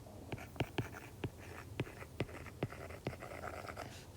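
Pen or pencil strokes writing numbers on paper, a quiet series of short scratchy taps and scrapes in an uneven rhythm, close and alone.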